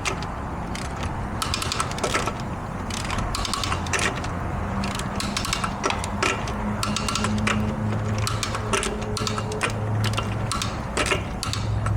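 Steady mechanical clicking and whirring in a workshop while the wheels of a 2006 Jeep Liberty are tightened after a front brake job, a continuous busy rattle of tool noise close by without speech.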